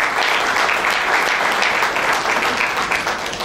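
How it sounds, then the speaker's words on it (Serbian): Sustained applause from an audience at a tourism presentation during the 40th International Tourism Fair, steady and dense clapping filling the space with no voices on top. "Pozdravimo jednim velikim aplauzom pomoćnika"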